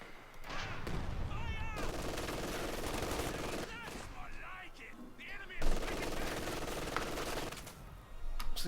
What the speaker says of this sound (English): The captain with his Thompson trying to lay down some fire and forced to retreat there.